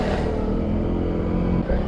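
A Honda CRF300L dirt bike rides muddy off-road trails on stock tires, its engine giving a brief, close, steady running rumble.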